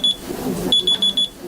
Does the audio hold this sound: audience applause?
no